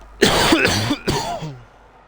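Someone coughs and clears their throat several times in quick succession, close and fairly loud, during a live racing game commentary, with no speech over it.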